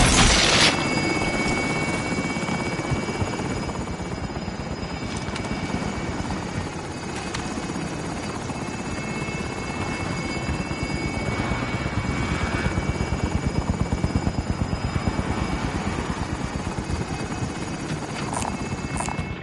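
A helicopter flies in the video game Warzone's Plunder mode, its rotor thrumming and engine droning loud and close without a break, with no voices.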